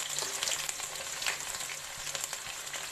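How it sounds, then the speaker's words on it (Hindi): Chopped onions frying in oil, the same oil used earlier to brown onions for an egg biryani, giving a steady, close, crackling sizzle with light bubbling pops and no talking. "उसी ऑयल में मैं 2 मज़ीद चॉप हुए प्याज को ऐड कर दूँगी"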